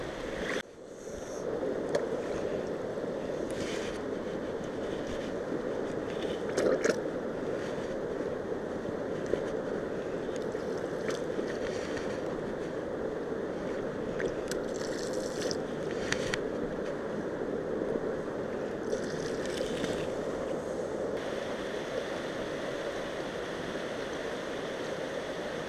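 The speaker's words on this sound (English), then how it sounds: "I'm going to work all these little lines, channels, anything like that with my small suction pump" A small suction pump works a stream bed while gold panning, giving a steady low gurgling rush of water and slurry with occasional sharper sucking bursts, continuous and fairly faint.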